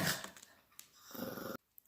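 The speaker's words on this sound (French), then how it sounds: "mon chien qui commence à faire le foufou" A playful dog growls and grumbles in short, close rumbling bursts, loud at first then fading, with brief scuffling noises between them.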